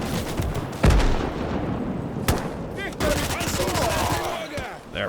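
PPD submachine gun fire in the WWII game Gates of Hell during a Mannerheim Line battle at Summa: rapid bursts and sharp single shots with loud booms, mixed with battle noise and faint voices underneath.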